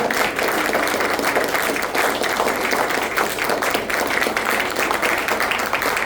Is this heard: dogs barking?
no